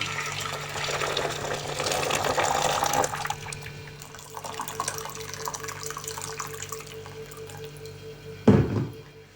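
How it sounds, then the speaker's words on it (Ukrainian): Hot water pours and trickles into glass jars of marinated zucchini, a soft liquid splashing that fades in and out, followed by a brief clunk near the end. "По плечики банки наливаємо гарячу воду."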